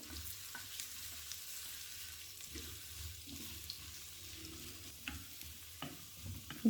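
A chopped medium onion sautéing gently in a pan gives a low, quiet sizzle with occasional soft stirring clicks and scrapes, heard up close with no voices.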